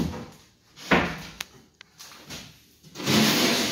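Metal tool box doors on a go-kart trailer being shut, a few sharp separate bangs and clicks of latches spaced over several seconds, close by, ending in a louder rush of handling noise.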